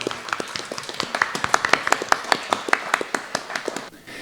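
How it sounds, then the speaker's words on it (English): Brisk, evenly paced hand clapping from an audience at a spiritual center service, sharp claps repeating rapidly and steadily for a few seconds before trailing off. "Everyone give a round of applause for Reverend James Peake."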